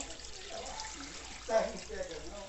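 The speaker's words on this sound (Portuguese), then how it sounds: "Vou colocar um pouco de água aqui, ó." Water poured into a cooking pot while preparing a maxixe and dried-beef stew, a soft short splashing swell that rises and fades over a steady background hum.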